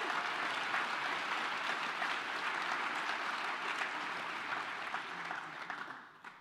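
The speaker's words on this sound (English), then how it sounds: "let's give a round of applause for everyone who's contributing." A conference keynote audience at DrupalCon Prague claps in steady, dense applause that holds for several seconds before fading out.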